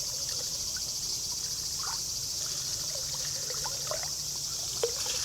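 Water from a cold spring runs in a steady, moderately loud trickle with scattered faint drips and splashes, and no voices over it.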